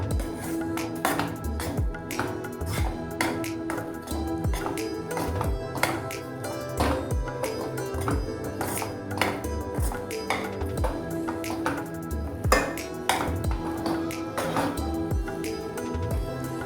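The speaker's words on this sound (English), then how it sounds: "Mix completely so that the flour gets blended properly and gets cooked" Bajra flour mixed in a pan on a stove over a very low flame, with a steady run of quick, sharp taps and clinks of utensil on pan throughout.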